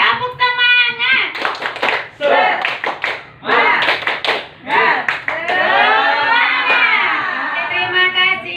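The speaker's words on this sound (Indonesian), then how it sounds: "Oke, kita tepuk semangat dulu ya. Tepuk semangat." An audience of teachers in an Indonesian school hall doing tepuk semangat, bursts of rhythmic group clapping alternating with loud chanted voices, close and energetic throughout.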